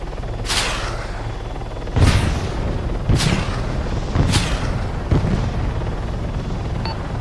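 Aircraft rockets strike in Arma 3: five heavy blasts land in a steady rhythm about a second apart, each a hissing whoosh ending in a deep boom, over a constant engine drone.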